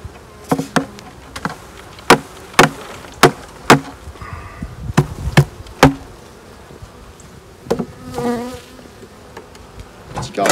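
Honeybees buzz around an opened beehive during a February inspection, while sharp knocks and clicks of hive handling punctuate the close, steady drone.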